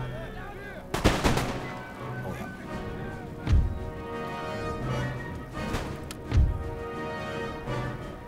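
Musket volleys in the video game Empire: Total War, with a few heavy booming shots spaced seconds apart and rolling echoes over a continuous battlefield din, while a person talks over the fire.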